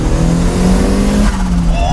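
A modified turbocharged first-generation Mazda MX-5 revs hard near 4,500 rpm as the turbo comes in, a loud, steady engine drone with a rising whine, while someone talks over it.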